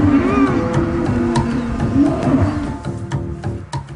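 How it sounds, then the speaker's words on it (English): Wild Chillingham cattle in Northumberland low loudly and close by, with several overlapping deep moos over rustling and other background sounds. "The wild cattle at Chillingham are the stuff of legend."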